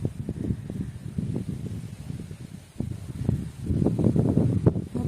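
Strong wind gusts buffet a microphone outdoors, low rumbling bursts that swell and ease in uneven waves, louder toward the end, with no voices.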